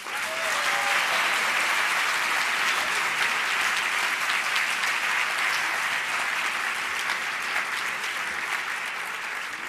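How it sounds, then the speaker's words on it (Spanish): Audience at a high school graduation ceremony applauding the graduates, a dense, sustained wash of clapping that holds steady at full volume for several seconds with no talking over it. "Un fuerte aplauso para los graduados."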